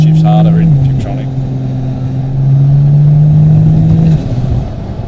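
A 1000HP turbocharged Barra-engined car accelerates hard through its gears in Tiptronic mode, a loud steady engine drone dipping at each shift, with voices talking over it.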